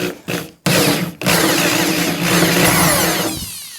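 A power drill running in reverse into wood whirs loudly up close, starting in short bursts and then running steadily with a grinding edge as it bites into the wood.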